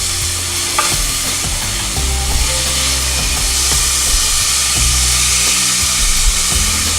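Crushed garlic sautéing in a pan gives a loud, continuous sizzle and hiss, with repeated scraping stirs and clinks of a utensil against the pan throughout; no speech.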